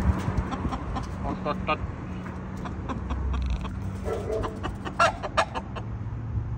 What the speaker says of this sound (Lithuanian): Amerikietiškas gaidys in the middle of nowhere.